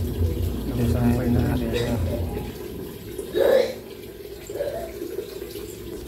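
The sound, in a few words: water running while rinsing laundry in a basin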